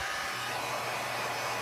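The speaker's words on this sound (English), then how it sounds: "heat gun to dry this, just to get it dried quickly" A heat gun blows hot air to dry a wet chalk-painted t-shirt, giving a steady, even whooshing hiss that runs unbroken at moderate volume.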